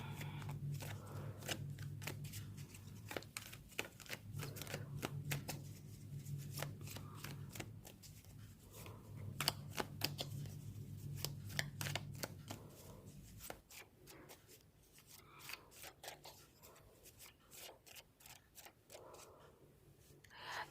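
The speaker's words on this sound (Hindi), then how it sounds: "ये वाला जो मैं कार्ड निकाल रही हूँ" Tarot and oracle cards being shuffled by hand, a long run of quick crisp riffling flicks and soft slaps with brief pauses, close and quiet, without talk.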